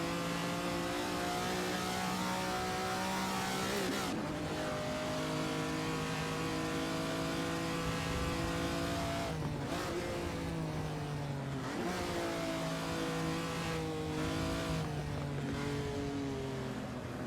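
A Ferrari 250 Testa Rossa racing at Goodwood roars loudly and steadily, its engine climbing through repeated rising upshifts with brief dips between gears, heard close up without any talk.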